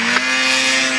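A mountain snowmobile engine is held at full throttle in snow, giving a loud, steady, high-revving drone with a constant pitch and no speech over it.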